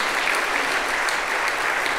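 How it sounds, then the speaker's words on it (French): Audience at a foundation gala applauds as a guest is invited onto the stage, a steady, dense wash of clapping from a large crowd, loud and even throughout with no voices above it. "Sous vos applaudissements, Agnès Vincent"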